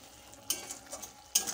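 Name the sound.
frying spice masala in a pan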